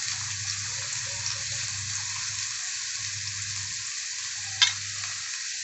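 Steady sizzling of onions frying in a pan for egg fried rice, with bursts of stirring, plus one sharp clink of a utensil near the end.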